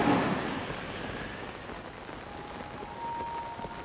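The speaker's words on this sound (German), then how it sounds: "Es ist so doof mit dem Regen gerade." Steady rain falls in The Legend of Zelda: Tears of the Kingdom, a soft, continuous hiss of drops on surfaces, fairly faint and with no voices.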